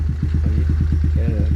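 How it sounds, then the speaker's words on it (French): Brand-new motorcycle engine idling just after start-up, a close, loud, even chugging pulse of about ten firing beats per second with a slight rise in pitch near the end. "je viens de faire la mise en route. Donc là, encore une moto qui marche nickel"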